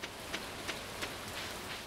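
Steady rain in the video game Stardew Valley, a dense even hiss of falling drops with faint periodic patters, moderately quiet and continuous with no talking.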